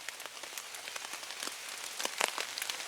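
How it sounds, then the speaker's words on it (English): Light rain falling outdoors in the woods during a spring turkey hunt, a steady close patter of drops with occasional sharper taps, heard alone with no voices. "You can hear it's still raining."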